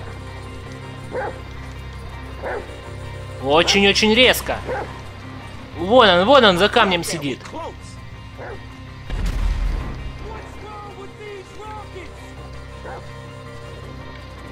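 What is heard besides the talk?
dog Chop barking in video game GTA V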